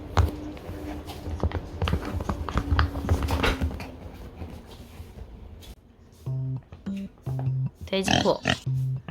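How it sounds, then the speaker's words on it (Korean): Pig oinks and grunts, several short repeated calls in the second half, following a stretch of busier sound with clopping and footstep-like taps; fairly close and loud. "돼지고"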